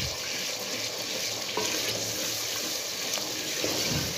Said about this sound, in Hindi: इसमें थोड़ी सी मैं हींग शामिल कर रही हूँ मसाले में, ये फ्राई हो जाएगी